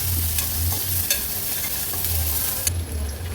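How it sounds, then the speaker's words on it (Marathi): Chopped onion sautéing in hot oil with asafoetida, a loud close sizzle with rhythmic stirring scrapes of a spoon in the pan throughout. "हा चिरलेला अगदी अर्धाच कांदा घेतला आहे तो ॲड करते कांदा थोडासा परतून घ्यायचा आहे"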